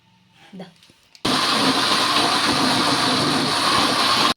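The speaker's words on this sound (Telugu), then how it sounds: "కొంచెం వేసుకొని మూత పెట్టేసుకొని మిక్సీ అయితే పట్టేసుకుందాం" A mixer grinder grinding wheat semolina batter starts abruptly after a brief moment of quiet and then runs loud and steady with a harsh, whirring roar until it cuts off.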